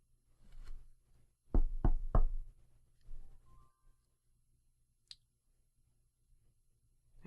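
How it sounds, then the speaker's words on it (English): Three firm knocks on a door, evenly spaced and close, followed by a softer tap or two, with a faint click and near silence afterward in a quiet room. "you knock."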